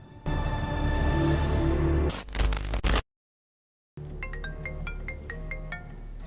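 A mobile phone rings with an unknown early-morning call in a Korean film, a loud electronic ringtone with sustained tones, then a harsh crackling burst, a second of silence, and a repeating beeping melody that resumes.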